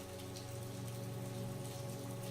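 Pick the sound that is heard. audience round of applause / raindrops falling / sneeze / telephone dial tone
raindrops falling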